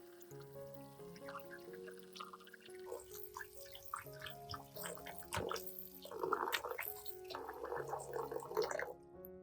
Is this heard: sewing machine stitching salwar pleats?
no